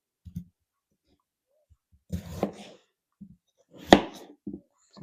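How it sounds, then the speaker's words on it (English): Knife chopping a potato into small pieces on a board, a few scattered close taps followed by two louder bursts of cutting and a couple of final knocks, with quiet gaps between. "we'll cut up 1 potato in probably like bite-sized pieces"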